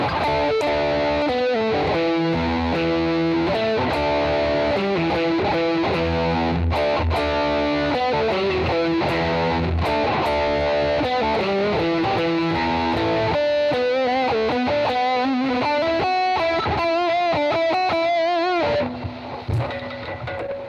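Overdriven electric guitar plays a busy, gritty riff with chords and fast note runs, loud and continuous, thinning out near the end.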